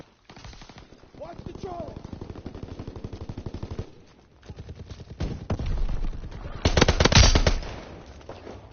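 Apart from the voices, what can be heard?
machine gun fire in video game Call of Duty WW2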